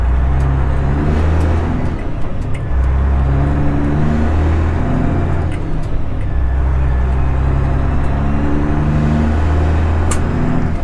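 Straight-piped Freightliner Classic XL truck engine droning loud and steady from inside the cab, a deep continuous rumble with slight rises and dips in pitch as it cruises, no talking.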